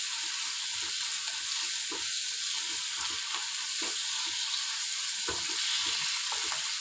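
Sardine roe sautés in a pan with a steady, close hiss of frying and soft scraping stir strokes throughout, no voices.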